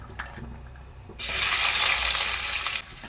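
A sudden loud sizzle erupts as chopped small onions hit hot oil, hissing steadily for over a second before easing off slightly.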